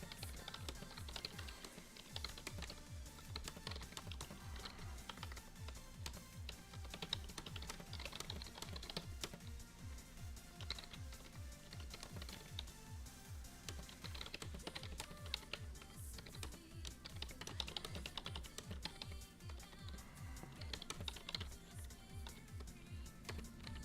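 Rapid, continuous typing on a computer keyboard, dense clicking keystrokes close to the microphone, steady throughout with no voices.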